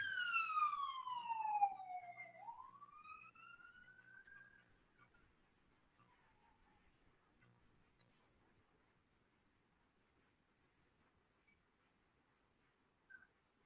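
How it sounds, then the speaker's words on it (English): A siren wails downward and then rises once more before fading into near silence, distant and faint, with a small click near the end. "The siren."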